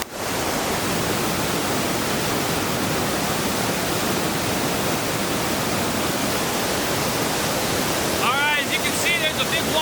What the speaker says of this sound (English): There's a big waterfall right behind me.